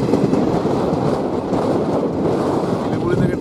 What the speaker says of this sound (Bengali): শিলিগুড়ি থেকে ট্রেনটা ছেড়েছে